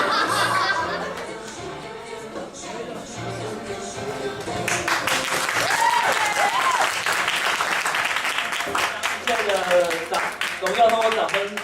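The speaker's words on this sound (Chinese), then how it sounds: "荣耀通过掌声归于我们在天上的父" A congregation applauds during a Saturday church worship service, scattered claps swelling into sustained, loud clapping mixed with chuckles and voices in the room.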